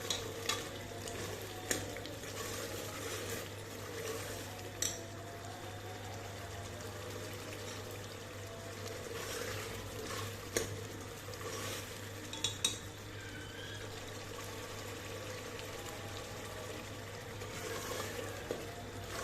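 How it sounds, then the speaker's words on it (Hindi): Tender cooked beef for mirchi masala is stir-fried in a pot over a raised flame, a low continuous sizzle with scattered scraping and clinking of a spoon against the pot and no speech. "अब इसको हमने थोड़ा सा भूनना है।"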